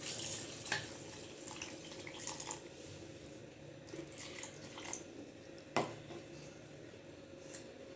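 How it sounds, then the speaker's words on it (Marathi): Milk pours into a mixer jar for a mango milkshake, a continuous soft liquid trickle and splash with a few small clinks, moderately close and steady throughout. "आता याच्यात आपण दूध घालून घेऊया।"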